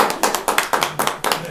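Small audience at a local candidates' night clapping after a treasurer candidate's speech: a sparse, uneven patter of hands in loose bursts, fairly close and moderately loud, with no talk over it.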